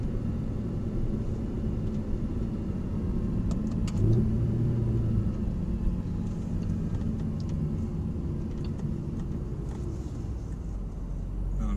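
A Mercedes SLS AMG driving on a race track, heard from inside as a steady loud engine and road rumble with a slight swell in revs partway through.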